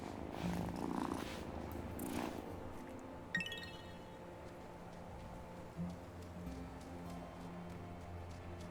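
A cat in the farming-life video game Wylde Flowers purrs softly and steadily, a low rumbling purr with a light chime and faint background game music, no talking.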